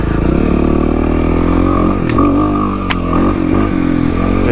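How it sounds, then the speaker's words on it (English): A 2005 Kawasaki KLX300R plated dirt bike with a worn rear tire revs loudly up close for a wheelie, its engine holding a steady throaty drone with a couple of brief throttle blips. "this bike has so much power, you don't need a hill to help you wheelie, it just comes right up"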